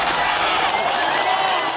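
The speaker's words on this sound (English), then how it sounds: "a well-deserved round of applause" Sustained applause and cheering from an audience of course participants for presenting groups at a WHO training session, a dense, steady wash of clapping throughout with no gaps.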